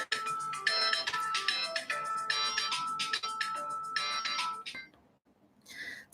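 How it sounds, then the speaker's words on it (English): A phone alarm rings in a repeating electronic ringtone pattern, loud and close, in bursts that stop briefly near the end before a short final chirp; no talking over it. "This is my phone. It's alarm telling me, telling me to do something I'm supposed to do."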